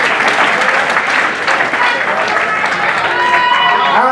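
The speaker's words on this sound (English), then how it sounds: "let's give these guys a big round of applause" At a middleweight MMA bout between Lars Mueller and Justin Condie, a loud arena crowd applauds and cheers after the fight, a thick, continuous roar of clapping with a voice speaking over it near the end.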